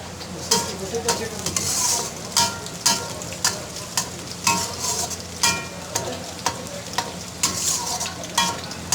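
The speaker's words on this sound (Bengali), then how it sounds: "তারপর রসুনগুলো তেলের ভিতরে ভালো করে বাদামি কালার করে নিতে।" Garlic frying in oil in a kadai until browned, a continuous close sizzle with a regular rhythm of spatula scrapes and stirring knocks running throughout, no voices.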